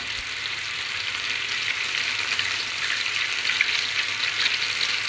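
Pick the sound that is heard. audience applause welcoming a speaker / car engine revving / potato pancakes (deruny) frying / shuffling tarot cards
potato pancakes (deruny) frying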